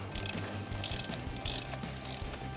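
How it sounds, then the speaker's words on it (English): Torque wrench ratcheting as it tightens the backing plate bolts of a Kodlin air cleaner on a Harley-Davidson Touring motorcycle, giving several short bursts of close, crisp clicking at a steady pace. "I'm gonna torque those to 60 inch-pounds"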